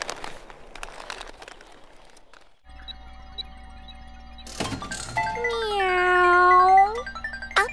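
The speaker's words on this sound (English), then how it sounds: "Meow." A cartoon cat gives a drawn-out, rising-and-falling meow close up, following a faint chime and some rustling in a quiet children's English-lesson scene.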